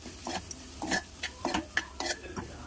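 A spoon stirs bitter gourd curry in a pan, sounding as rhythmic close scraping and clinking strokes roughly every half second over a soft background hiss, with no talking.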